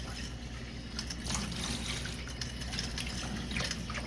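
Cold water running from a tap in a kitchen while rice noodles are being blanched, a quiet, steady trickling and splashing stream with no voices over it.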